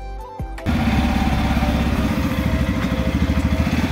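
A new motorcycle engine catches after a short quiet moment and settles into a loud, close, rhythmic throb. The steady putter continues while the bike is ridden, with no talking.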